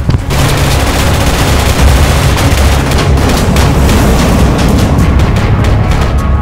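Dense, continuous small-arms fire in the tactical shooter Project Reality, with rapid overlapping bursts and booming impacts running loud and unbroken for several seconds, no voices.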